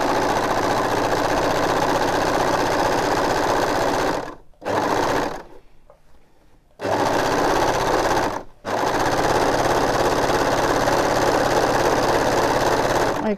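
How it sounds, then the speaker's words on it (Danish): An overlock serger with size 80 needles stitches around the edge of a light fabric, a steady rapid mechanical whir that runs continuously, stops briefly twice, then resumes at full speed. "Og jeg kører simpelthen hele vejen rundt i kanten, så jeg får overlocket tæt ind til kanten"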